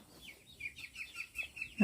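Chicken clucking softly in a short, regular series of faint calls nearby, ending with a brief louder knock.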